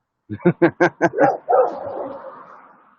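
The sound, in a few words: dog barking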